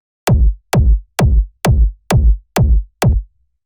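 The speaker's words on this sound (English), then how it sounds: "the first sound that we have here is the kick" Seven evenly spaced punchy techno kick drum hits at 131 BPM, each a sharp click attack dropping into a deep booming thump, loud and alone with silence between.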